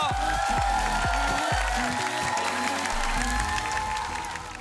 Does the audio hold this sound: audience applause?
yes